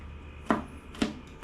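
Garlic cloves crushed on a kitchen board, three sharp, evenly spaced thuds a half-second apart, close and fairly loud over a quiet room.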